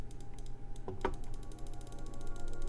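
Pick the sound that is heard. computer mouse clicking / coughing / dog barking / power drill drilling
computer mouse clicking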